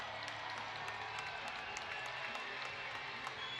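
Arena crowd noise at an ECHL hockey game between the Jacksonville Icemen and Greenville Swamp Rabbits before overtime, a steady, distant wash of applause and cheering with occasional sharper claps, fairly faint overall.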